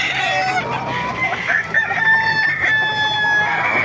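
Chickens cluck and a rooster crows at a busy Baliuag market stall, where Lemon Sweater and SBR gamefowl are kept in crates; several birds call over one another in dense, overlapping, fairly close bursts.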